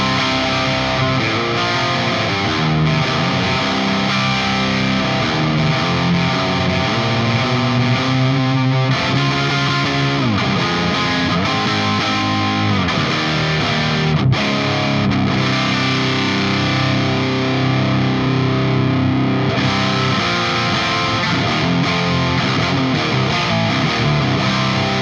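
Distorted electric guitar played through a Soldano Astro 20 amp into a UK 412 cabinet loaded with V30 speakers, thick saturated chords and riffs sustaining loudly and continuously for the whole stretch, with no talking.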